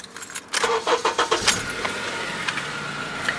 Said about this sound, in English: Let me just turn on my vehicle first.